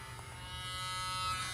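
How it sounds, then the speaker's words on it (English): The polishing head of an electric nail trimmer spins with a thin, steady buzzing whine that rises slightly in loudness, close and brief, with no speech. "now I got this polishing side here. And so that spins around"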